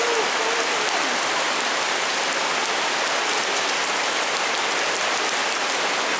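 Heavy rain pours onto a shopping arcade roof in Yamatotakada during a heavy rain warning, a dense, steady, loud roar with no break.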